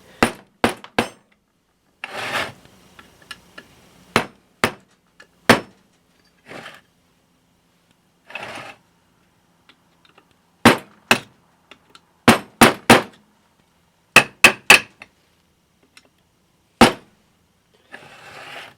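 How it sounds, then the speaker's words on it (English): Sharp metallic hammer blows strike a flat-bladed screwdriver used as a punch against a rear wheel hub from a 1975 Suzuki GT750, coming in quick bursts of two to four ringing clanks with short pauses, close and loud, with no talking. "flat-headed screwdriver here as a punch. I guess you could use a punch."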